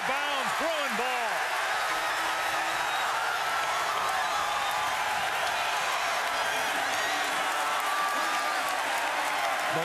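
A dense roar of a UCLA Bruins home crowd cheering and clapping at a 2017 basketball game against Oregon, sustained and loud throughout, with a commentator's voice briefly heard over it at the start.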